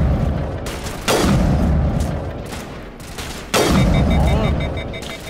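Two loud sniper rifle shots in the Mass Effect video game, each a sharp close crack with a long booming tail, spaced a couple of seconds apart over a steady low background hum.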